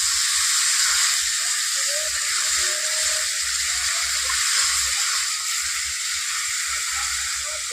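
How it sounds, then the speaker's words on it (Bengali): Water poured into a pan of frying ridge gourd and potato sets off a broad, steady hiss of steam and sizzle, loud and continuous with faint bubbling underneath. "আমি এবার জল দিয়ে দিচ্ছি"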